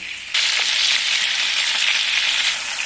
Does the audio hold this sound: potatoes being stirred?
yes